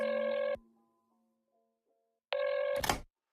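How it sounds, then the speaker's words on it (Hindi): An outgoing phone call rings on the line, two electronic ringback tones separated by a pause of about two seconds, close and clear with no talking. "इसे फोन करता हूँ 1 सेकेंड"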